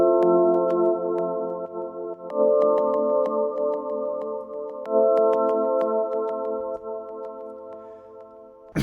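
Dissonant synth pad patch built from many operators sounding together, inspired by a track; dense sustained chords swell and shift every few seconds, loud and close with faint clicks on top, no talking.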